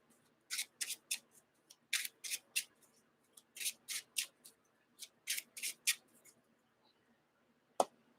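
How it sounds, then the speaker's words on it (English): Cards from the encounter deck of Arkham Horror: The Card Game being shuffled by hand: a run of crisp, close riffling bursts in quick clusters, then a pause before one last sharp snap near the end. "I'm going to go ahead and shuffle"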